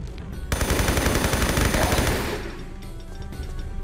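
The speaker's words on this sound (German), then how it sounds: "da schießt er wieder" Enemy gunfire in the Tomb Raider 3 video game, a loud, rapid burst of machine-gun shots lasting over a second and a half, then fading into quieter game ambience.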